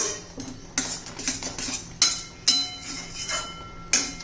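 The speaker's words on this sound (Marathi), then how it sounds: "चांगलं घट्ट होईपर्यंत आपल्याला हलवत राहायचे" A spoon stirs a thickening chocolate modak mixture in a pan, making repeated close clinks and scraping knocks against the metal in an uneven rhythm, with no talking.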